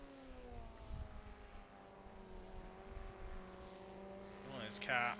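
An idling Formula Ford race car in the iRacing sim at Interlagos holds a steady low engine drone with harmonic bands throughout. Brief talk and a sharper tonal burst come in near the end.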